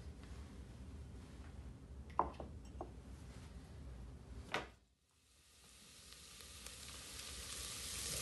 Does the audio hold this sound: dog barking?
no